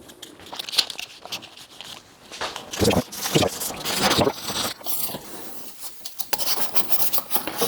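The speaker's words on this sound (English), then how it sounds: "just take this sharp edge off with a bit of very fine grit wet and dry" Very fine-grit wet and dry paper rubs along the sharp edge of a carbon fibre part on an Ultima RS car build, making soft irregular scratchy strokes close up and at moderate volume, with no speech.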